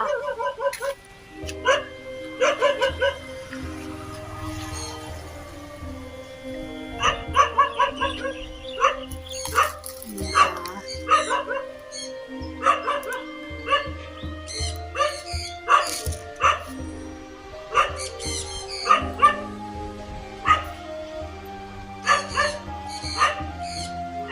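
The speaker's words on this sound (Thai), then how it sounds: "หมาเห่าเลยนะคะ" Several dogs bark repeatedly and irregularly in a Thai village area beside a herbal vine plant, loud nearby yaps and whimpers in bursts over roughly twenty seconds.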